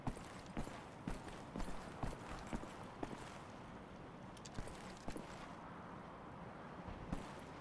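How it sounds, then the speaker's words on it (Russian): Heavy, thudding footsteps of a super soldier in the video game Wolfenstein: The Old Blood, irregular booming steps spaced about a second apart over a dense rumbling game background, with no talk. "Я слышу тяжелые шаги."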